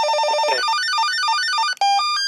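A phone ringtone plays loud and close, a rapid, warbling electronic melody that cuts off briefly and starts again, with no voices over it.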